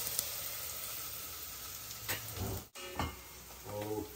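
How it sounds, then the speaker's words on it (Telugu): Onions sizzle steadily in a pan, a bright constant hiss with a few brief stirring scrapes and clatters near the end, quiet and close with no talking. "ఆనియన్స్ని కొంచెం ఇట్లా అదే వేగనిద్దాము."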